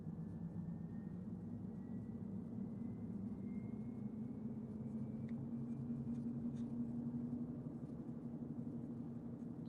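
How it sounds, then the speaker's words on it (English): Steady low rumble of a Tesla Cybertruck driving on Full Self-Driving Supervised v13.2.2, heard from inside the cabin, with constant road and motor noise throughout and no talking. "the car is navigating towards our destination"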